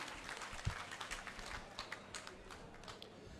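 An audience at a community panchayat gathering welcomes a speaker with applause, a moderately faint, uneven patter of hand claps that lasts a few seconds.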